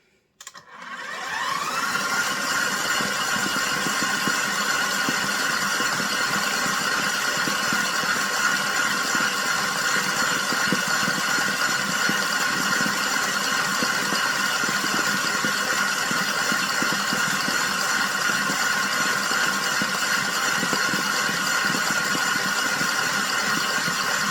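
An electric mixer whirs continuously while mixing mashed potatoes, starting abruptly and holding a steady motorised hum with a faint rattle, close and loud throughout.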